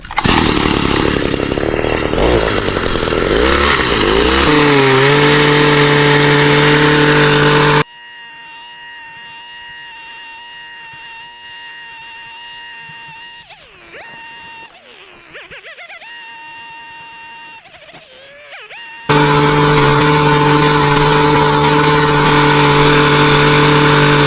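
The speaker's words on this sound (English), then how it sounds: "the sweeper is going to sweep all this off to the side" A track sweeper clears debris from a race track at CBR, its loud engine roaring close by, then dropping away to a quieter whine before surging back near the end.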